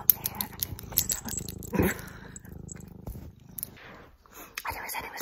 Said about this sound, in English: Sorry, my cat really likes to get involved.